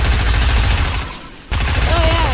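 Rapid, loud gunfire from a weapon in a zombie video game, fast rattling bursts that dip briefly into near quiet before the firing resumes just as hard, with a faint voice underneath.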